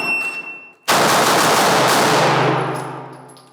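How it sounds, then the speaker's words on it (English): Pistol fire on a shooting range, drawn and fired for six rounds against a timer: a sudden, loud, close blast of shots that merge into one dense burst, then ring and fade over a couple of seconds. "The next step is to draw and fire 6 at this distance."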